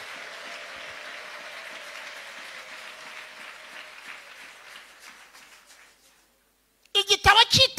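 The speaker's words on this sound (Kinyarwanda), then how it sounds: "amashyi ku Mana yacu amashyi ku Mana yacu" A congregation at a sermon applauds, a fading spread of clapping followed after a brief pause by several loud, close, rhythmic claps.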